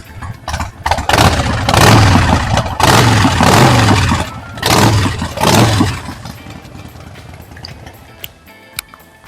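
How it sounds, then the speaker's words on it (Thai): A red 2019 Harley-Davidson Sportster 48 motorcycle revs hard several times, loud and close, with deep pulsing bursts that rise and fall before dropping back to a quieter idle and fading toward the end. "เดี๋ยวเราฟังเสียงเครื่องยนต์กันนิดนึงนะครับ"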